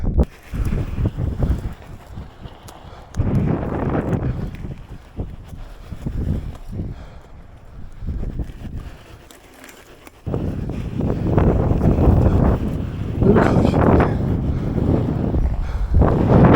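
Strong wind buffets the microphone during an outdoor electric bike ride, with loud, uneven gusts that rumble and roar, easing briefly in the middle before surging back harder.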